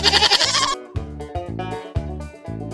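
A flock of sheep bleats in several loud, close, wavering cries that come one after another with short gaps between them.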